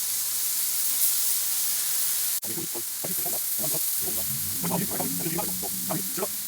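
A chuck roast sears on a Blackstone griddle over medium heat, giving a continuous loud hissing sizzle throughout while someone talks over it for most of the clip.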